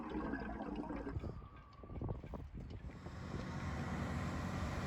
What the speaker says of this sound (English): they've started dredging the pontoons and they're still at it